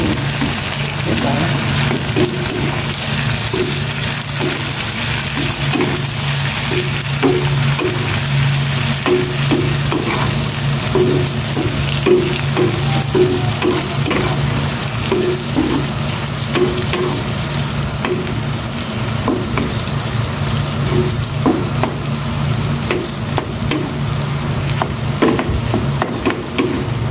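Shrimp sizzles steadily in a hot pan, with repeated scraping and stirring strokes over the continuous frying hiss, close and fairly loud throughout.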